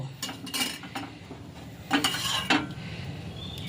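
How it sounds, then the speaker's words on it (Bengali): A spoon clinks and scrapes against a bowl while milk powder is stirred into a little boiled milk, with several sharp taps and steady stirring close by and no voices. "এই দুধে গুঁড়ো দুধটা মিশিয়ে নেব"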